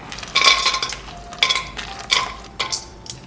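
Cashews frying in ghee in a pan, several short bursts of bright sizzle and scraping as a spoon stirs them, each lasting a fraction of a second, close and fairly loud.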